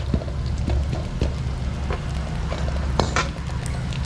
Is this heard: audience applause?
no